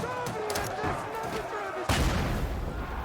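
A flash grenade goes off in a video game, a sudden loud burst about two seconds in that rings on over dense gameplay noise and a talking voice.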